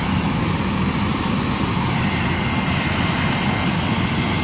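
Loud, steady rotor and engine roar from a helicopter landing on sand, a continuous close wash of noise with no talk.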